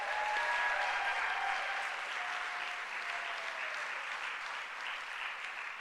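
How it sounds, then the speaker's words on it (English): A live audience at a storytelling show applauds, and the dense, steady clapping fades slightly toward the end. A few whoops can be heard under the clapping. "applause for all of these amazing storytellers"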